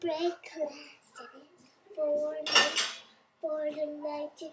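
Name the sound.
dishes and cutlery clattering while unloading a dishwasher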